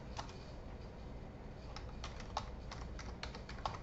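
Typing on a computer keyboard into a search bar: quiet, steady clicking of keys in an irregular rhythm, close up and alone, with no talk.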